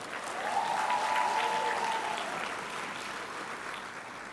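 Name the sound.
audience applause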